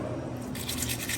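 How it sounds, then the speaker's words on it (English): A brush scrubs the group head of a 2022 Victoria Arduino White Eagle espresso machine, a steady close bristly rasp that brightens halfway through as water flows, continuous and alone. "clean like this brush."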